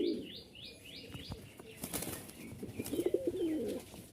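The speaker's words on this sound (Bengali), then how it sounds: "কিন্তু খুব উড়ে এগুলো আর ছটপট খুব বেশি।" Giribaz pigeons beat their wings in a burst of fluttering flight nearby, with soft chirps and a faint coo mixed in among the flapping.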